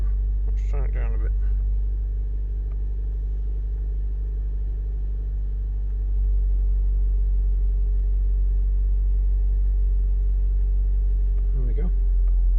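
A K11 Nissan Micra engine with a Speeduino coilpack setup runs with a steady, loud low drone that shifts in pitch partway through, with brief talk near the start and end.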